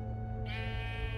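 In Minecraft Story Mode, a sheep hatched from a spawn egg lets out a single short, nasal bleat, close and distinct over a low steady game hum.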